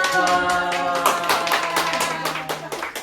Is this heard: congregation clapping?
yes